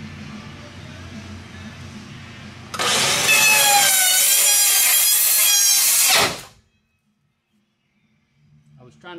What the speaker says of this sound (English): this is a new saw and I cannot quite make out where the end of the blade is